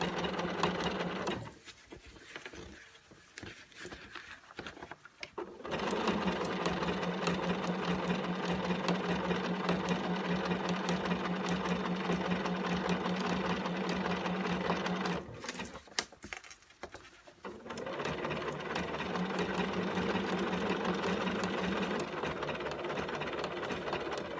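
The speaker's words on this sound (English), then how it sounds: "second stitch backwards, forward, third stitch backwards, forward. And it provides a beautiful top stitch" A sewing machine top-stitches heavy denim on blue jeans, a loud close rapid mechanical whir in long runs, broken by two short pauses and a change of pace.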